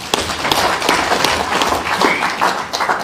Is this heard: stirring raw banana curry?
no